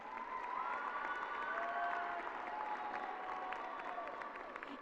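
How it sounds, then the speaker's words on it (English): A crowd at a 2024 Parkland Early College High School graduation ceremony applauds its graduates, a steady dense wash of clapping with some cheering mixed in, loud and sustained throughout. "please applaud your Matadors for achieving this great success"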